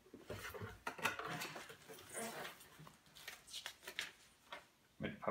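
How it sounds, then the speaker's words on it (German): Soft rustling and crinkling of cardboard and paper as a Vostok 5-CHM ships watch, made in 2016, is unpacked from its box with papers; quiet, close handling noises with irregular small bursts. "Das packe ich jetzt einfach gleich mal aus."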